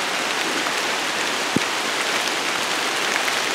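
Rain falling steadily on a hike near a creek, a dense even hiss of drops on surfaces with one brief sharp tap partway through, no speech.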